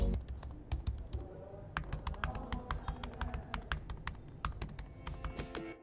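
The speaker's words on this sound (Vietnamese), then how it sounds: "mình đã hoàn toàn quen được với trải nghiệm gõ phím trên chiếc máy này" Fingers type on the keyboard of a Dell XPS 13 9300 (2020) laptop, a close run of crisp, quiet key taps in an irregular rhythm with short pauses.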